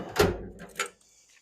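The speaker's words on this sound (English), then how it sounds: "So I'm going to go ahead and check all the drawers." Drawer of a U.S. General Series 3 42-inch double bank top chest sliding, two close metallic rolling thumps a moment apart, then quiet.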